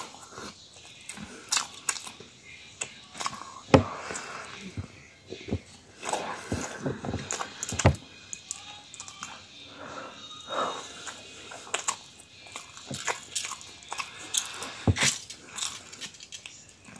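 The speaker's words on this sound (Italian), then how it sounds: "Altro morso." Someone bites into and chews a Turkish kebab close to the microphone, producing repeated crunchy bites and soft chewing noises at an uneven rhythm, with faint background noise in between.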